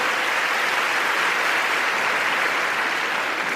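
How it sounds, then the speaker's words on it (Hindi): An audience at a legal awareness seminar applauds in a dense, sustained wash of clapping that holds at an even level for several seconds, with no voices over it. "आपकी तालियों में इतनी जोर है।"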